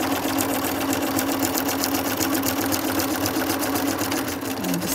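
A sewing machine stitching a zigzag, running continuously with a rapid steady mechanical whir and needle chatter, close and loud throughout.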